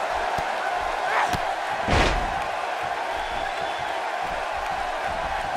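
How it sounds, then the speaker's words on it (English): A heavy body slam in a WWE 2K Stardom match between two female wrestlers, a single sharp thud landing over a steady roar of arena crowd noise. "She slams her down with great force."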